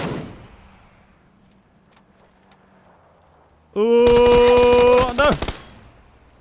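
Rapid automatic gunfire in the PUBG video game, a loud sustained burst of about a second and a half with a few trailing shots, following a quiet stretch and a brief exclamation from a voice.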